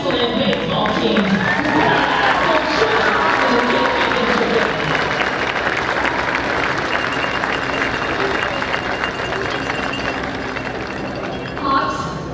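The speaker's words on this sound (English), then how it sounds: "let's give a round of applause to these two excellent baseball teams." A crowd at a high school baseball state championship applauds and cheers for two teams, a dense, sustained roar of clapping and voices that slowly eases toward the end.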